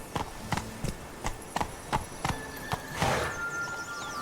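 Horse hooves clip-clopping at a trot in The Witcher 3: Blood and Wine, about a dozen sharp, evenly spaced steps, with a brief neigh or snort near the end.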